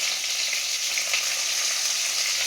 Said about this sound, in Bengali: দেখো এখন মটনটা কষানো চলছে